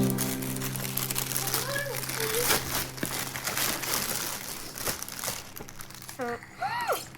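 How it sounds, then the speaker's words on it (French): Paper crinkles and rustles close by in bursts while children chatter and squeal over it. "Enlève tout le papier."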